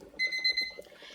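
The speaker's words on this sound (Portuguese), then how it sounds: "já soou o alarme, já deu os 20 minutos" A kitchen timer alarm rings after 20 minutes of cooking rice, a short, bright, steady electronic beep lasting under a second, fairly clear against a quiet room.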